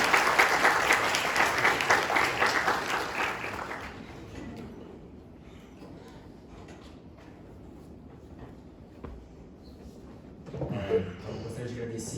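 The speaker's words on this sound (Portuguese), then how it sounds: "acho que vale uma salva de palmas aí para a gente iniciar essa oficina" Applause from an audience at a university workshop session, a dense clapping wash for about four seconds that then fades into quiet room tone, with a brief burst of noise near the end.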